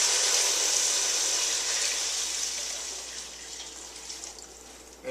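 Reverse osmosis filtered water pours into a soup pot for lentil soup, a close, steady splashing rush that gradually eases and softens over several seconds with no talking.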